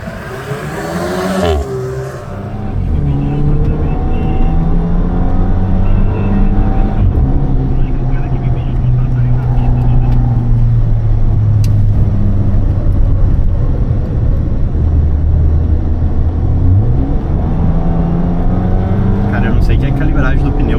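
A Fiat Fastback Abarth laps a race track, its engine droning steadily and shifting pitch through gears, heard from on board under someone talking throughout.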